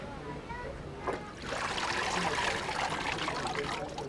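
Water drains and trickles steadily from wet cotton pulp held on the mesh screen of a papermaking frame, a continuous close splashy hiss that swells partway through.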